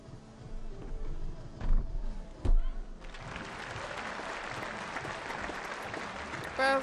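Spectators at a World Challenge Cup gymnastics event in Varna clap and cheer for an athlete, a steady dense wash of applause swelling after a few seconds and holding, with a few louder bursts early on.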